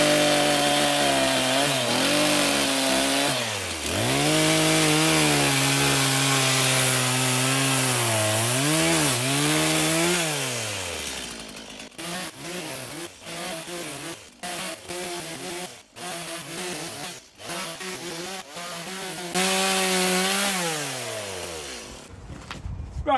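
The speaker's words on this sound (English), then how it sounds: "What I want to do now with the chainsaw, right? I'm going to notch it there like that, and I'm going to cut that out there" Chainsaw notching timber for a triangle garden room build, a loud sustained engine whine that bogs and revs as the chain bites, then choppy bursts of idling and cutting in the second half.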